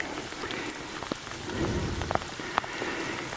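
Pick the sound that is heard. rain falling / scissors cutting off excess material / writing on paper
rain falling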